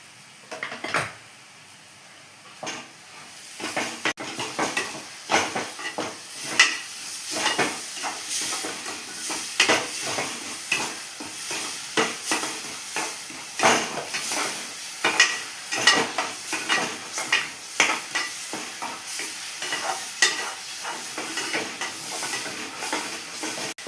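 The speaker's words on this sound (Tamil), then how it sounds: "விடாமல் கிளறிக்கிட்டே இருக்கணுங்க. நம்ம கிளறிக்கிட்டே இருக்கணும்." Sugar is stirred in a pan with cooked flour, a spoon scraping and sizzling in quick repeated strokes, close and fairly quiet, with no talking.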